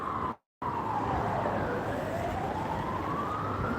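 Ambulance siren wailing continuously with a slow rising and falling pitch, fairly steady and moderately loud over road noise, broken by a brief dropout near the start.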